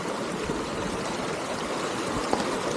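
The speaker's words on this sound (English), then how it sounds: "Already a water crossing." A stream running high after a flood watch rushes past a trail crossing at the start of a hike on Mount Tecumseh, New Hampshire, a steady, close, continuous wash of water with no talk.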